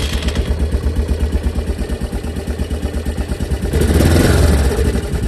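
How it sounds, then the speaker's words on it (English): A 2002 Yamaha Big Bear 400 Buckmasters Edition ATV engine runs steadily at a close, loud idle with a fast rhythmic chugging, then it revs up briefly near the end. "2002 Yamaha Big Bear 400 Buckmasters Edition. This thing does actually run pretty well."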